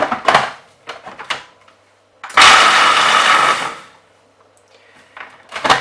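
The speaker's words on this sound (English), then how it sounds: "So literally it took me 10 seconds to whiz the nuts and the oats together" A blender whizzes oats and nuts for a vegan meatball mix in a loud, steady burst of about a second and a half, set between quieter kitchen clatter and knocks.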